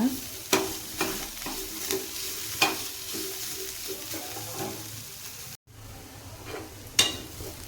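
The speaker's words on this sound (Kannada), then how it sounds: "ಈಗ ನೋಡ್ರಿ ಈ ಥರ ಹಾಗಲಕಾಯಿ ಎಲ್ಲ ಪೂರ್ತಿಯಾಗಿ ಫ್ರೈ ಆಗ್ಯಾವ" Bitter gourd frying in a pan, a continuous sizzle broken by regular scraping stirs every second or so, close and moderately loud, with no talking.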